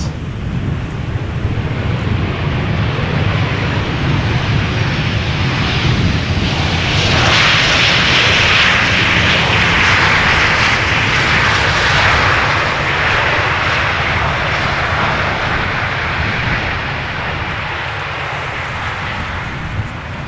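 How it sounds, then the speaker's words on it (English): A passenger airliner arriving at Amsterdam Schiphol Airport on a sunny day gives a steady, loud jet roar that swells in the middle and eases off slightly toward the end, with some wind noise over it. "This is Stardom Flight 361 arriving from Bucharest."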